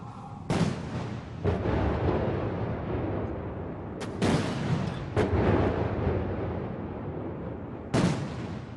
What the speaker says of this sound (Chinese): 56门礼炮鸣放100响